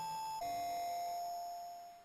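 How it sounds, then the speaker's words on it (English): An electronic two-tone doorbell chime from a WonderSwan horror video game rings out, a clear ding followed by a longer sustained tone that slowly fades, alone with no voices. "The doorbell rang again."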